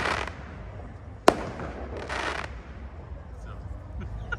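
A single sharp firework bang over a noisy crowd, with scattered crackling bursts and voices murmuring in the background.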